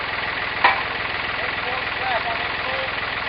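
A tractor engine idles steadily on a rural site in north Georgia, a close, even mechanical chug with a sharp knock partway through and voices faintly underneath.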